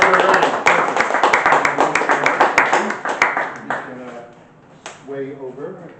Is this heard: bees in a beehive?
no